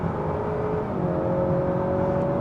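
The 2.0-litre turbo engine of a new Honda Accord Sport drones steadily from inside the cabin as the car accelerates, its tone rising gradually.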